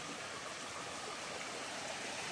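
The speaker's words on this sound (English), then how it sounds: "get close to the river, and you see lots of streams like this" A small stream runs near the South Mills River in North Carolina, giving a steady, even rush of flowing water with no talk over it.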